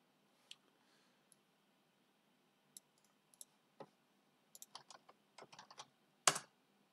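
Scattered clicks of typing on a computer keyboard during a command-line session, a few isolated keystrokes early, then a denser run of quick taps ending in one louder key press; quiet, close and with no talking.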